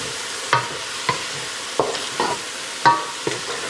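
A spoon scraping the bottom of a pot while deglazing after browning pork belly, several distinct scrapes over a faint sizzle, close and fairly loud, without talk.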